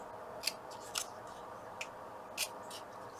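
Scissors trimming the edges of a scrap quilt top, heard as several quiet, crisp snips spaced about half a second apart over a faint room hum.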